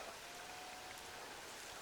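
Steady light rain falling at an elk hunting camp in Colorado, a soft even patter with no voices.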